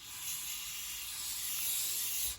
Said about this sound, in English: we're gonna use some WD-40 or something penetrating oil like this